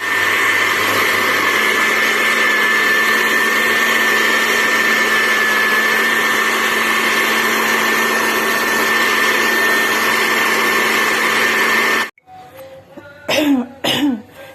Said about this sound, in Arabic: هضرب بقى مع نفسي عشان مش عارفه امسك الخلاط